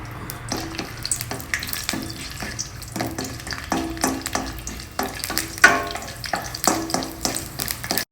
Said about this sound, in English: Add the chopped onion to it. Fry it well.